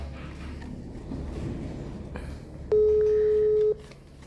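A phone call to a friend produces one steady electronic ringback tone lasting about a second, clear and prominent over a murky background of hiss and low rumble.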